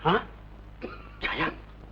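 A person coughs and clears their throat in three short, rough bursts separated by brief pauses, close up, in an old Telugu film scene.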